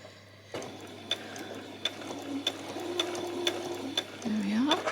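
A home sewing machine runs in a steady mechanical whir while stitching a peasant top, with light clicks and a brief speed-up near the end, close and moderately loud.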